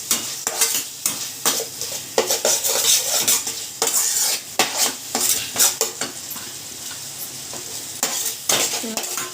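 Ginger-garlic paste and tomatoes fry in a pan under constant, brisk stirring. A spoon scrapes and clinks against the metal, loud and close, over a continuous sizzle.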